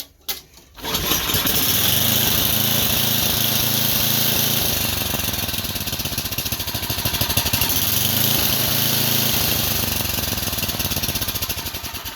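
A lawn mower engine on half choke catches after a short pull and runs loudly and steadily close by, with a constant rattling drone and no talk.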